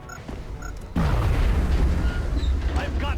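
A frag grenade in XCOM: Enemy Within bursts about a second in, a sudden heavy boom rolling into a long rumbling decay, after a stretch of quieter game ambience with small tonal blips.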